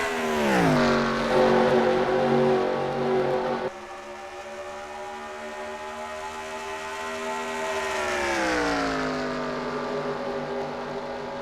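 Race cars at the Daytona 120 race sweep past in a loud high-pitched whine that drops in pitch as they go by, followed by further engine drones rising and falling, with no talk.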